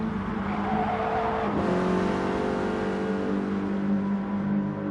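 Race car from a racing video game, its engine droning steadily on track as it warms the tyres, with a short rising whine partway through and then an even, sustained hum.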